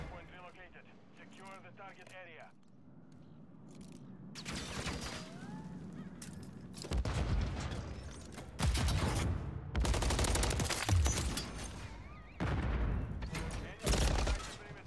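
Gunfire in a Call of Duty MW3 ranked match, bursts of shots rising loud in several clusters after a quieter stretch, with players talking over the action.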